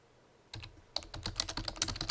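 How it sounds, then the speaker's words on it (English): Rapid keystrokes on a computer keyboard entering welcome text for a web-to-print store, close and crisp, starting after a brief pause and continuing in a quick irregular patter with no talk. "So you might type welcome"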